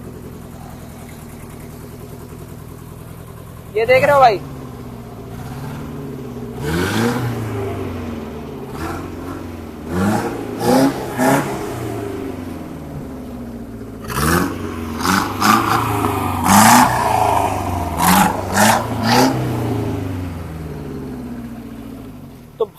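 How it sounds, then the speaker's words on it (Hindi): A 1994 HM Contessa's 1800 cc engine with no exhaust idles and then revs repeatedly in sharp, loud bursts of rising and falling pitch, close by, with someone speaking briefly over it. "गाड़ी की आवाज दिखाते हैं भाई"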